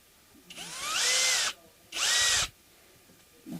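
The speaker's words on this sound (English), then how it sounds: "Let's do some drilling." Power drill boring into a guitar neck during a neck swap, running in two steady bursts of about a second each with a brief pause between, close and loud with a rising whine as it spins up.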